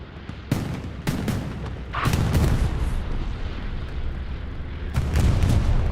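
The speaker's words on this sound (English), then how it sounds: "Bombing run's going to go through here." Heavy bombing-run explosions from a WWII video game arrive as a series of deep booms and sharp blasts. A loud, rumbling wash of sound carries between the impacts.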